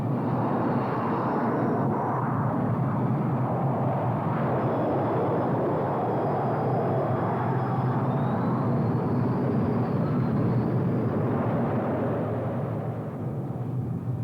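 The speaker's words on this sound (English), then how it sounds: "Every 30 seconds, another plane is sent aloft." Military jet aircraft of about 20 tons take off one after another in quick succession, producing a loud, continuous engine roar with a faint whine drifting above it throughout.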